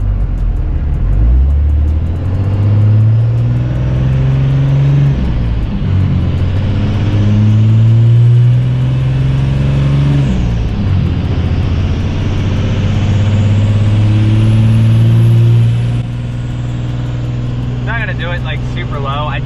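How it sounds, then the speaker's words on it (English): A hotshot truck's engine and exhaust pull hard under acceleration on the highway, loud and close, with rising revs that drop back at each gear change, about every five seconds. A voice talks faintly underneath. "I wonder if I can film the exhaust when we're accelerating"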